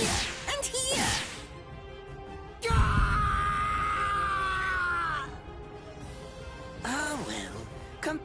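A man screams and bellows in agony in a dramatic anime scene, with a long sustained wailing cry in the middle and shorter loud outbursts before and after, close and intense.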